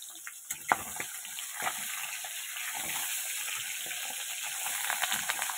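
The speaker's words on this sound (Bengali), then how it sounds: "হালকা করে মাছগুলো ভেজে নিয়েছি, আর একবার মাছটা দিয়ে দিলাম" Fish frying in hot oil in a home Bengali kitchen, a steady close sizzle and crackle with a few sharp spatters and stirring clatters, with no talking.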